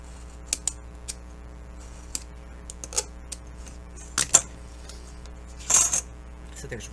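Scissors snip through craft material for a memory journal, cutting it into pieces; several sharp, brief cuts spaced irregularly, with a louder rustling cluster near the end, close and alone against a low steady hum.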